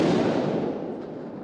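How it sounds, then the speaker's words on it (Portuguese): Police bomb detonation in woodland in Paraná, Brazil, watched from boats: a single loud, broad blast that rumbles and fades over about a second and a half. "Todos acompanham dos barcos a detonação."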